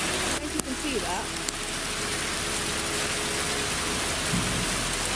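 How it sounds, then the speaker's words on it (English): Hail falls outdoors in Glastonbury, a dense steady patter and hiss close around, with a few brief knocks and a faint voice near the end. "It started hailing. Guys, look at this now, it's ridiculous. Look at the hail!"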